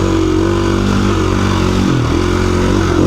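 A KTM 350 EXC-F dirt bike engine drones steadily and loudly at a held throttle on a trail ride, its tone dipping briefly before climbing again, close to the rider.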